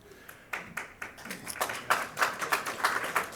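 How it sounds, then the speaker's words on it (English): Scattered hand claps from a small audience during a speech on Illinois state finances, starting sparse and quickly building into a light, uneven patter, faint and somewhat distant with no talk. "The only applause line."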